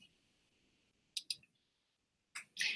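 Two pairs of sharp computer mouse clicks, right then left, spaced about a second apart, close and fairly loud against a quiet background with faint hum.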